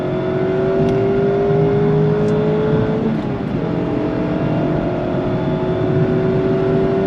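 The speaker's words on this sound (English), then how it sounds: "Love the way it just revs this freaking engine." A 2023 Mazda MX-5 RF Miata sports car engine revs on throttle with a steady, loud drone whose pitch climbs slowly and continuously throughout, heard alone without any talk.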